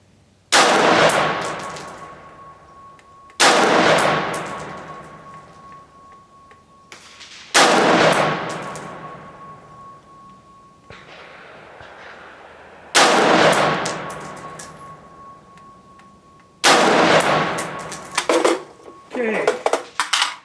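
Retro 601 rifle firing Frontier .223 55-grain ammunition at a range, five sharp, loud single shots spaced several seconds apart, each leaving a ringing decay, with faint clatter near the end.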